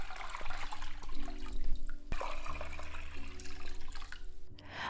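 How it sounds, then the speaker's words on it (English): Water pouring and splashing into a container while preparing a papermaking vat for algae pulp, a close, continuous gurgling stream with a few drips and clunks. "Then, topping this off with more water until it's enough to work with."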